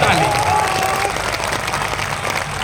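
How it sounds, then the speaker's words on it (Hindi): A large crowd at a political rally claps in a dense, steady burst of applause that stays loud throughout, with a voice briefly audible above it. "जोर से बजाइए ताली"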